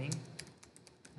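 Quick bursts of typing on a computer keyboard, about a dozen light key clicks in an uneven run, close and soft, with a voice at the edges.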